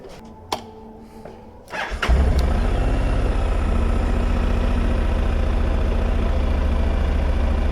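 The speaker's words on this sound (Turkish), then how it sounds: "Motorun sesini de dinleyin." After a few clicks and a starter whir, a motorcycle engine catches and settles into a steady, loud, rumbling idle close by.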